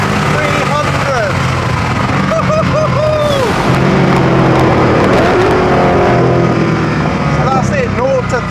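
A Koenigsegg Agera R accelerating hard toward 300 km/h, a loud in-car engine roar with rising then dropping pitch sweeps at gear changes, while someone talks over it throughout.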